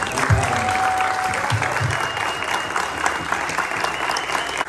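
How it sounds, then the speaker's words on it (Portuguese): A morning event audience at a Converse gathering breaks into full, steady applause, close and loud, with a few scattered cheers and voices mixed into the clapping. "Uma salva de palmas aí."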